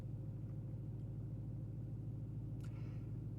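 A Dodge Demon 170 idles through a turn on a wet road in the rain, giving a low, steady engine rumble heard from inside the car, continuous and even, with a brief faint splash near the end and no talking.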